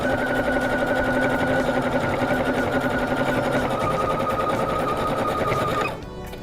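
Sewing machine stitching elastic onto fabric at a steady rapid pace, a loud continuous mechanical whir and clatter running close by for several seconds before stopping abruptly.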